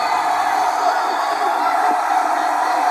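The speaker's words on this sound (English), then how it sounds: "Yeah, the crowd loves this." A boxing crowd at the Superdome in New Orleans cheers steadily through a WBC Super Welterweight Championship bout between Wilfred Benitez and Thomas Hearns, a dense, roaring wash of voices that holds without a break.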